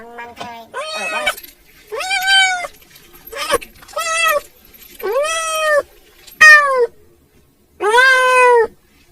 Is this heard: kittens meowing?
yes